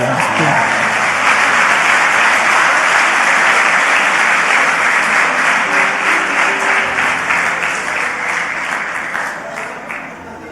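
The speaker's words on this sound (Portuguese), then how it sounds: "Dê um forte aplauso à senhora." Loud, sustained applause from an audience at a family conference church service, dense clapping filling the space steadily before tapering slightly at the end.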